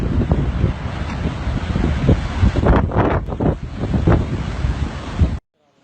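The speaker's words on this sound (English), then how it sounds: "Powerful winds and heavy flooding struck the UK, turning tourist areas into disaster zones as waves surged across roads." Strong wind roars and waves surge over roads during a storm with heavy flooding in the UK, a continuous loud buffeting with crashing water swells through the middle, then cutting off abruptly near the end.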